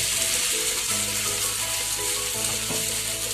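An egg frying in vegetable oil on a hot tawa, giving a steady close bright sizzle with small crackles throughout and no talk.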